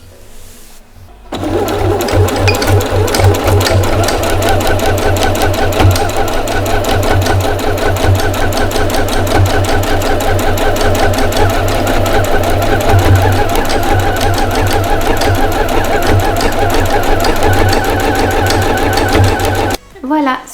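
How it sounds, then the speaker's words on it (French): A sewing machine runs steadily for about eighteen seconds while stitching all around the edge of a fabric baby bib, with brief quieter moments at the start and end. "On va faire une couture tout autour de votre bavoir afin d'apporter une jolie petite finition."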